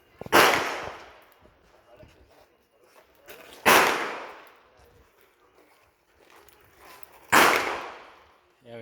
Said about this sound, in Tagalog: Yan, may pumuputok dito.